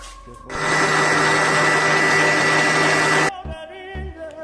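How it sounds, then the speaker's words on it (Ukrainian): An electric mixer whips cream, a steady motor whirring loudly for about three seconds, a dense whining hum, then cuts off, leaving quieter clinks and faint background noise. "Збиваємо 200 грам сливок"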